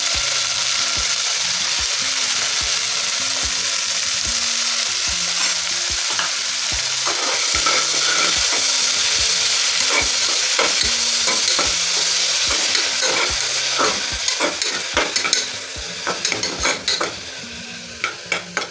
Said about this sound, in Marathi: थोडे आपण तेलात परतून घेऊ पालक